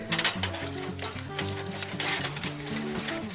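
Eggs are beaten into a batter in a hot pan with a whisk or spoon, giving a run of quick scraping, clicking strokes over a bright sizzle, with faint music or tones in the background.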